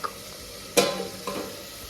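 Okra curry cooks in a pan with a steady low sizzle, broken by two sharp scraping stirs of a spoon against the metal, close and moderately loud, with no voices.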